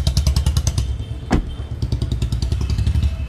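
A used Maruti Suzuki car with a CNG-petrol setup runs at a loud, close, steady idle, its engine pulsing rhythmically throughout with one brief thump partway through.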